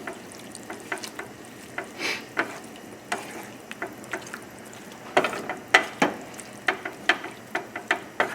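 Pasta being stirred through sauce in a pan, with a spoon ticking and scraping against the metal in irregular close strokes over a faint sizzle.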